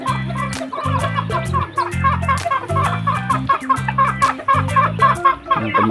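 A native chicken hen clucks close by, giving repeated rhythmic bursts of clucks across several seconds, loud and clear with no other sounds over them.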